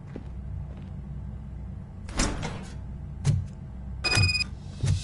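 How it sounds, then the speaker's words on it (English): In the Robocop Rogue City video game, a door opens with a few short mechanical whooshes and clanks over a low ambient hum, the last bursts louder and closer. "Now let me get that door open for you."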